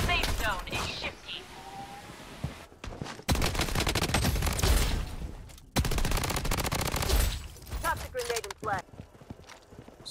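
Rapid bursts of gunfire from the Blood Strike battle royale shooter, with a P90 loadout, crackle in dense volleys, pausing briefly between strings of shots, while game voice callouts sound over the action.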